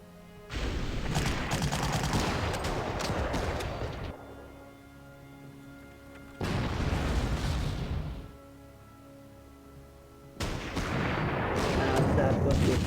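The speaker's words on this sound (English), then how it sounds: "And that was the artillery." Artillery fire in the strategy game Panzer Corps, three long bursts of dense rumbling booms and crackling blasts separated by quieter gaps, loud and close, each barrage lasting a few seconds.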